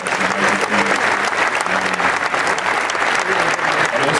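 Steady, dense applause fills a press conference room at a bodybuilding event, a crowd clapping loudly and evenly throughout with some voices mixed underneath.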